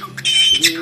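A cockatiel parrot singing, a brief close burst of bright chirpy warbling notes lasting under a second.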